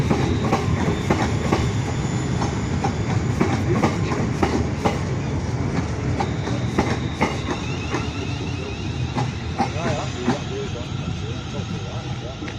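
A train pulling into Crewe station, a steady rolling rumble with rail clatter and scattered clicks and squeals, loud and close throughout, with station ambience underneath.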